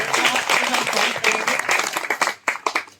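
Audience at a Sneh Yatra gathering in Datia, Madhya Pradesh, claps loudly and densely, then thins into scattered individual claps that fade out.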